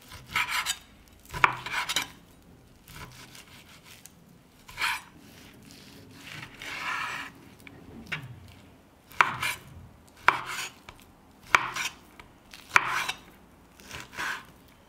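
A knife cutting raw beef neck into smaller chunks on a cutting board, irregular thuds and slicing strokes with pauses between, close and fairly quiet.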